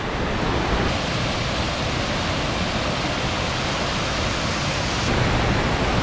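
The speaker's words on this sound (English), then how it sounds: "Another waterfall immediately, and this one has no name" Unnamed waterfall along the Sutton's Gulch trail in Cloudland Canyon, Georgia, a steady loud broadband rush of falling water filling the scene without pause, no voices.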